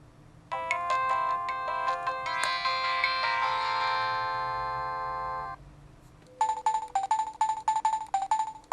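An old mobile phone found discarded in the trash rings with an electronic melody ringtone, loud and close, followed after a brief pause by a faster series of rhythmic tinny chiming tones, with no talking.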